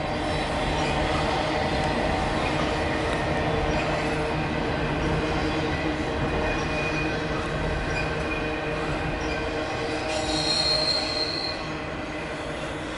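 Norfolk Southern 202 intermodal freight train rolls past steadily, wheels squealing and grinding on the rails throughout with a constant loud rumble and no talking.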